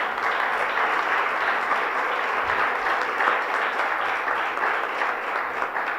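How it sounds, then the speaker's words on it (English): An audience at a school district address applauds steadily for about six seconds, a dense, even clapping that fills the room without cheers or speech. "You can clap."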